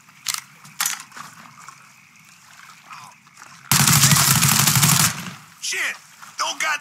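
Gunfire in the video game Mafia 3: a sustained, loud burst of automatic shots in the middle, with scattered shots and game noise before and after, over a steady background bed.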